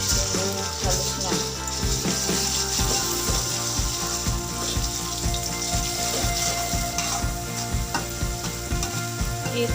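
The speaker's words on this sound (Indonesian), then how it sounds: "Kita panaskan minyaknya dulu. Kira-kira ini minyak udah panas ya. Kita masukkan bumbu halusnya." Ground spice paste sautés in hot oil for tempe, giving a steady close sizzle. A continuous frying hiss runs under a low, rhythmic thrumming hum throughout, with no voices audible.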